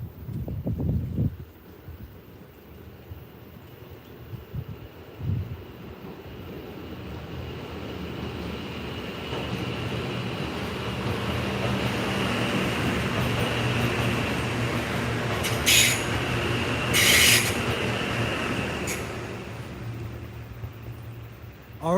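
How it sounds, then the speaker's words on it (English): A train passes along railway tracks near a tunnel, a broad rumbling roar that builds and lingers for many seconds, with a couple of brief high squeals near the end, heard up close with no talking. "Oh, we got a train coming."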